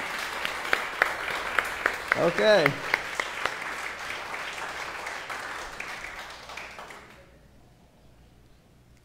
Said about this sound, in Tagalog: Yung pong palakpak para kay Jesus